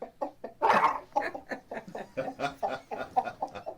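A voice imitates a chicken, giving a quick run of clucking, chortling calls with a louder burst near the start, close and fairly loud with no other talk.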